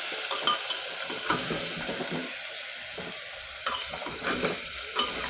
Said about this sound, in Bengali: ভালোভাবে আমি নাড়াচাড়া করে নিচ্ছি